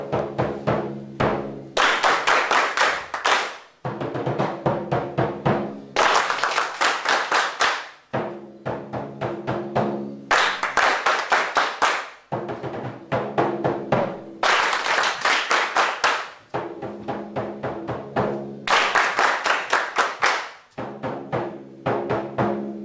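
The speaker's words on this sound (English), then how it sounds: "I'm going to play a rhythm, and then I want you all to clap that rhythm back to me" A class at a music theory workshop claps rhythms back in unison, with loud, sharp hand claps in repeated short patterned bursts separated by brief pauses of near silence.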